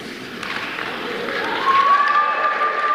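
An audience claps in a steady, dense wash of applause that swells slightly toward the end, with a thin whistle-like tone running through the later part.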